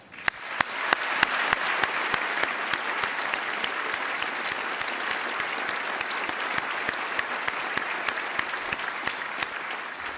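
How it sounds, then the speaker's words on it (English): Sustained audience applause fills a Naismith Basketball Hall of Fame enshrinement ceremony, dense steady clapping with a few sharper claps standing out, lasting about ten seconds without speech. "I want his widow and his family to hear you applaud."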